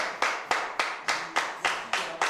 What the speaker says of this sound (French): Et on peut encore applaudir bien fort à Enrico et Laura, quand même.